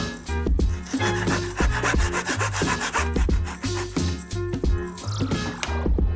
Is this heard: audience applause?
no